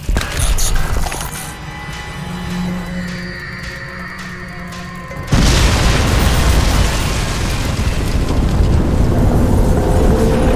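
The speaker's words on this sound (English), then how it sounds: "Warning. Explosion imminent." Explosion in the video game Crysis 2 Remastered: after a stretch of humming, beeping game ambience, a sudden loud boom erupts and rolls into a heavy, sustained roaring rumble that fills the rest.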